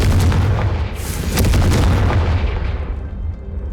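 A Confringo fire spell blasting in the video game Hogwarts Legacy, a loud, dense booming burst with rumbling low end that swells near the middle, then fades as the roar tails off.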